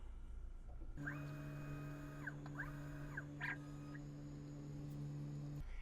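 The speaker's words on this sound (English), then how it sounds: "the machine is going to autofocus down onto the material here" A WeCreat Vision Pro laser engraver autofocuses down onto its material, giving faint, low electronic hums with short rising and falling motor whirs and small clicks, heard close and alone in a quiet room.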